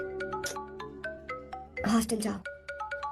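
A bright electronic ringtone melody plays in a repeating pattern of short tones, briefly covered midway by a spoken phrase.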